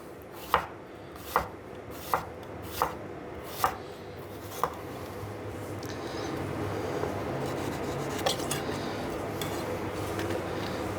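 A knife slices crisp radishes for a salad on a cutting board, six sharp evenly spaced chops close up, followed by softer scraping and shuffling on the board, with no talking.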